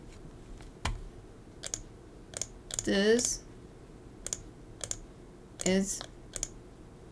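Sparse keyboard clicks and taps from a live digital art session sound faint and close, scattered singly and in small clusters, with two short bursts of speech in between.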